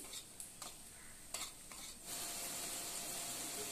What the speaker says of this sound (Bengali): আবারও আমি নাড়তে থাকছি।